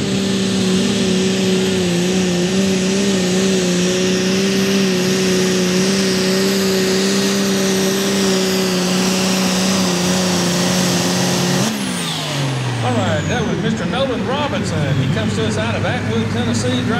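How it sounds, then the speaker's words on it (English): A diesel-powered AGCO tractor in a light limited super stock tractor pull at Ardmore, Tennessee, roars loud and steady for most of the time, then its pitch shifts sharply near the end, with a commentator's voice running over it. "driving the diesel-powered AGCO called the Cracker Jack"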